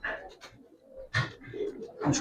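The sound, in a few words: Giribaz pigeons cooing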